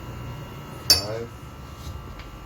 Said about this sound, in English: I like to put 6 non-heaping spoons of sugar